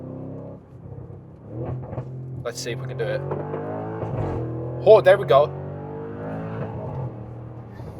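An Audi RS6 engine revs hard toward redline, its steady harmonic drone climbing in pitch with a few sharp blips, close and loud under a man's excited speech.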